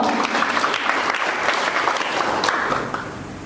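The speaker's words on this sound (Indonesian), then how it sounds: "Tepuk tangan bagi Tuhan." A church congregation claps together, a loud, even wash of applause from a full room that holds steady and then tapers off near the end.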